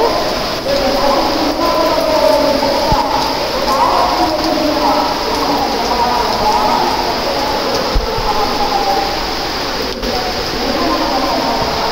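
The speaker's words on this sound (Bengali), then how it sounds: "হঠাৎ করে দেখেন কি বৃষ্টি শুরু হয়ে গেছে।" Sudden rain falling on a balcony, a steady broadband wash of rain that stays loud and even throughout, with a person talking faintly beneath it.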